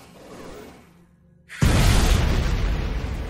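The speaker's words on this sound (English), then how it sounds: "Those grenades are kind of loud." Grenade explosions in the video game Factorio: a sudden loud, deep boom after a brief quiet dip, followed by a sustained rumbling, crackling blast that stays heavy to the end.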